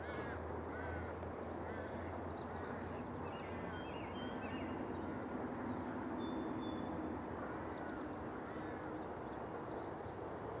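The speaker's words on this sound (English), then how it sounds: "Sounds like Kingfisher's busy." A kingfisher calls at a marsh in faint, distant bursts, set against a constant low background rumble outdoors.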